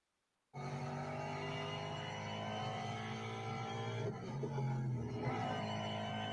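Ford Puma Rally1 Hybrid rally car in the Real Racing 3 mobile game, its engine droning at a sustained high pitch after a brief silence, with a slight dip and shift in tone partway through as it works through a corner.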